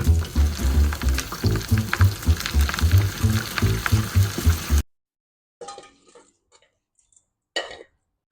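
Flour-coated marinated squid frying in vegetable oil at about 170 to 175 degrees, a loud steady sizzle and bubbling for several seconds that then cuts out, leaving only faint scattered sounds.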